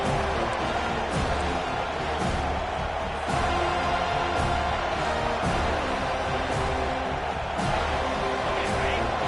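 A home crowd cheers inside the NCAA 25 college football video game during a third-down defensive stand, a dense, constant roar of stadium noise that stays loud and unbroken throughout.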